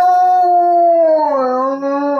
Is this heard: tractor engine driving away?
no